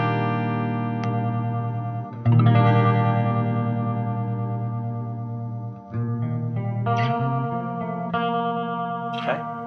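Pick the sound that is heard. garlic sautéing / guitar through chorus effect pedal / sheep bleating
guitar through chorus effect pedal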